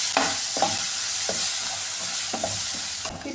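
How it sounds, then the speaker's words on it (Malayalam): Tomato sautéing in a pan for a Kerala-style moru curry, with a steady close sizzle broken by several stirring scrapes spread through the clip and no one speaking. "ഈ ടൊമാറ്റോ ഇതിലിട്ട് നന്നായിട്ട് ഒന്ന് വഴറ്റിയെടുക്കാമേ"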